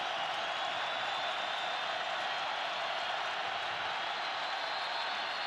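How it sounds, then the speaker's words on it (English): A steady wash of stadium crowd noise fills a Cal vs BYU college football game, a broad distant roar that stays even and unbroken without distinct peaks. "Crowd comes alive."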